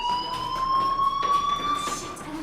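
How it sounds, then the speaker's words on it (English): Fire alarm in the video game Life is Strange, a continuous electronic tone that slowly rises in pitch over a low background noise. It holds steady for the whole stretch, with no speech. "do you hear that fire alarm?"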